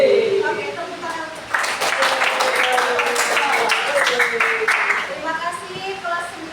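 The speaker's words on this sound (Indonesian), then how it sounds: "Oke, tepuk tangan." A classroom of students clapping together, a scattered burst of applause that rises and holds for several seconds, with children's voices and an adult speaking over and around it.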